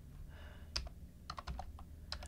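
Code being typed on a computer keyboard for a SolidWorks design table, with quick clusters of crisp, close key clicks separated by brief pauses.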